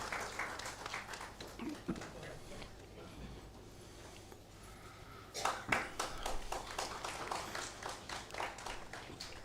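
An audience at a Kannada book release event claps to welcome two people onto the stage, sustained indoor applause of many hands that dips midway, then swells again.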